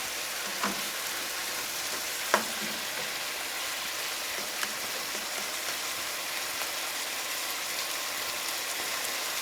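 Cabbage and kielbasa frying in a pan over medium-high heat, seasoned with salt and pepper, giving a steady soft sizzle throughout with a few faint clicks and taps.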